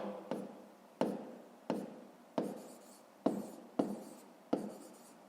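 Pen or chalk writing out a math inequality, a series of about eight sharp, evenly spaced taps and short strokes, close and fairly quiet, with no voices.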